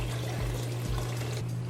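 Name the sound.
coconut milk and water poured into curry pot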